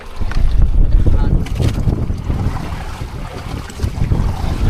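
Rough sea rocks a small fishing boat out at sea in poor weather, a loud churning rush of water and wind buffeting the microphone, with people talking intermittently underneath.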